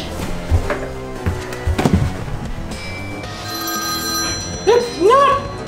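A telephone rings with repeated electronic tones that rise in pitch near the end, under and between excited voices and thumping movement indoors.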